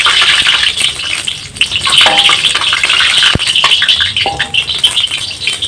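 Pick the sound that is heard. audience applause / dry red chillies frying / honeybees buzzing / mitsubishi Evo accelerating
dry red chillies frying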